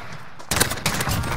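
Desert Eagle pistol shots in Call of Duty gameplay ring out as a sharp, loud burst of gunfire with a second crack close behind, over a low game background.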